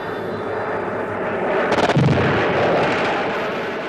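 Aerial combat in a Korean war film: a rumbling roar of aircraft and battle noise with a sharp burst of rapid gunfire in the middle, loud and dense throughout.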